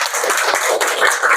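A dense burst of applause from a classroom group after a group presentation, many hands clapping at once, loud and continuous for the whole moment.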